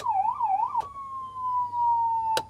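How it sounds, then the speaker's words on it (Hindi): Siren on a Mahindra Bolero Neo Plus ambulance, close and loud, starts with a fast warbling wail and then holds a steady tone with clicks as the mode changes. No one speaks. "यहाँ से आप सायरन स्विच ऑन करके दो मोड्स में चेंज कर सकते हो इसको।"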